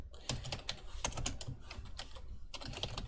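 Quick clusters of computer keyboard keystrokes clatter at close range, with short pauses between the bursts and no voices.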